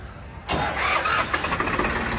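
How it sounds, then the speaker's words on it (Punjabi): A Swaraj tractor's diesel engine cranks and catches after a brief quiet moment, then settles into a chugging, uneven idle close by. "ਹੁਣ ਟਰੈਕਟਰ ਦੀ ਤੁਹਾਨੂੰ ਸਟਾਰਟਿੰਗ ਚੈੱਕ ਕਰਾਊਗਾ"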